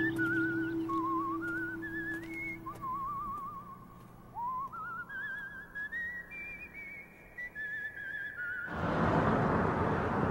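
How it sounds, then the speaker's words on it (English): A person whistles the Tales from the Crypt theme tune outdoors on a street, a wavering melody of sustained notes rising step by step, followed by a burst of broad noise at the end. "he turns and he walks up this street whistling the theme song to Tales from the Crypt"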